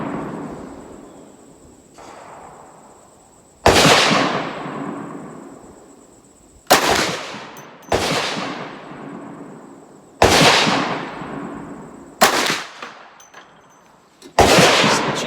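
Six loud, sharp rifle shots from a Ruger M44 carbine fired at a range, spaced a couple of seconds apart, each with a sudden crack and a decaying echo tail.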